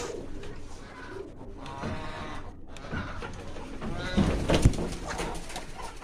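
Pigeons coo softly on a rooftop where a coop has been built, low repeated murmuring calls heard at close range amid light background noise, with brief speech.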